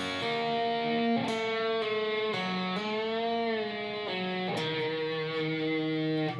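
Electric guitar playing a slow section of a solo, with about half a dozen distinct picked notes, some bent or held with vibrato, ringing clearly and alone.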